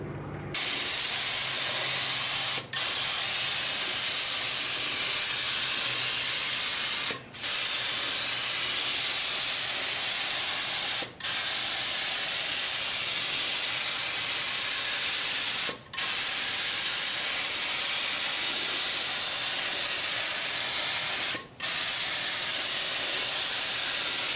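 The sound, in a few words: spray gun spraying green paint onto aluminum plate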